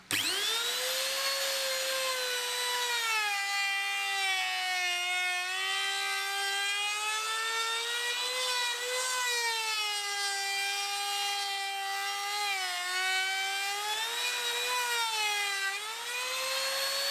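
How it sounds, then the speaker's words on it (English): A router cuts a trickle vent slot into an oak casement window, a loud, continuous high-pitched whine whose pitch dips and recovers as the bit bites into the wood, steady throughout with no talk. "You just need to set the depth to about 3mm, and then router that out."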